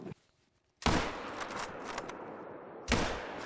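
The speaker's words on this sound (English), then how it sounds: "Oh, I spine shot it" Two sharp rifle shots from theHunter: Call of the Wild, fired at a wolf: a loud, close crack with a rolling tail, then a quieter stretch, and a second loud blast near the end.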